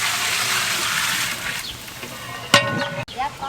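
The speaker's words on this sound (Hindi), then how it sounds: "10 किलो पानी शामिल करेंगे।" Water gushes steadily from a large container into a big degchi pot for chicken degi biryani, a loud continuous pour that thins out, followed by a sharp clank of metal near the end.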